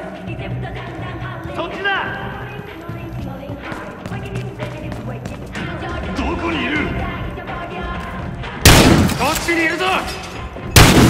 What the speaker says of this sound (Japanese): 銃声が聞こえたぞ。